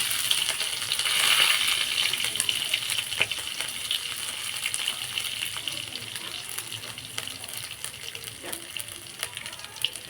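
Cumin seeds, grated ginger and green chillies sizzle in hot oil, a steady bright crackling hiss with scattered pops running the whole time, close and fairly loud, with no one talking.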